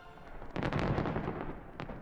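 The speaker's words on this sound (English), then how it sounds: "And what would an event of this magnitude be without eye-popping Beijing-style fireworks?" Beijing-style fireworks at a lavish banquet in the Chinese capital give a cluster of booming bursts and crackles, fairly loud and close, fading to a rumbling tail.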